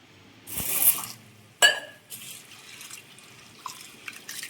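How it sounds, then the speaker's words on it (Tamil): Soaked toor dal and chana dal are washed in water in a kitchen: splashes and pouring water come in bursts, with quieter drips and sloshing between them, close and moderately loud. "நல்லா 2 கல் கழுவிட்டு ஊற வச்சுக்குவோம்."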